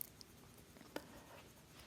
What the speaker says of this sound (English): Just go over the entire area that you want to blend with your choice of white pencil.